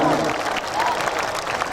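An audience at a colossal drama performance in Surabaya applauds in a dense, steady wash of clapping, with a voice speaking over it.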